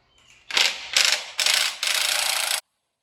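A ratchet with a 24 mm socket loosens the cam phaser bolt on a Gen V LT4 engine during teardown, giving four loud, close bursts of rapid clicking that end abruptly.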